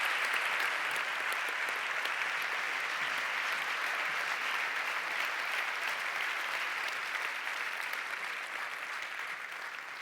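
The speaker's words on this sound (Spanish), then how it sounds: "Un fuerte aplauso." Sustained applause from an audience at a 2019 sports awards ceremony, dense and steady throughout, tapering slightly toward the end.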